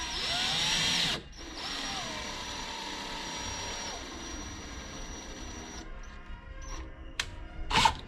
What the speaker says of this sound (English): when I turn on the drill, it spins. So it's going to create its own thread into the PVC pipe